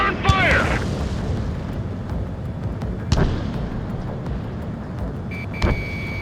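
A transport vehicle is destroyed in the Ace Combat 7 flight combat game, with a few deep booming blasts over constant jet engine rumble. Radio chatter is heard underneath.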